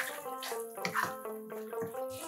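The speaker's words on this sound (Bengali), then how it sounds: "এবার এর মধ্যে দিচ্ছি গরম জল, প্রয়োজন মতো দেব" Hot water poured into a simmering chhana (paneer) kofta curry with peas and raisins, a steady close splashing pour lasting a couple of seconds with a voice audible alongside.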